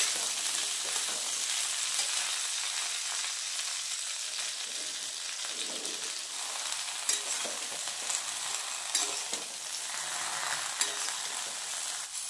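Whole jujube berries crackle and hiss continuously in hot cooking oil, a dense, even sizzle close up, with a few faint knocks of stirring scattered through it.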